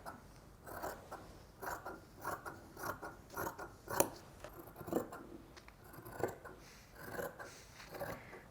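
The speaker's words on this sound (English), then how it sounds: "you're gonna cut around the 3 sides except the one that's cut on the fold" Scissors cutting fabric around a pinned pattern piece for a jumper, with a steady series of soft, close snips and crunches of blades closing and sliding through cloth, and no talking.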